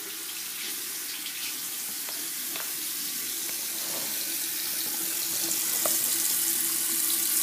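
Tap water runs steadily into a container while a mohawk hairstyle is being prepared, a continuous close hiss of flowing water that grows slightly louder toward the end.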